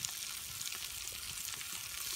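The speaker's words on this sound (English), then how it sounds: "You can hear them sizzling." Foil-packet Boy Scout dinners sizzle and crackle steadily in a pan, a soft continuous frying sound with small pops, heard close up and alone.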